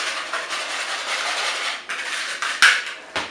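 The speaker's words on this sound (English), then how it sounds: "Give that a good whisk." Pina colada cake batter is whisked briskly in a bowl, a rapid continuous metallic rattle of the whisk against the sides, ending with a few sharper clinks.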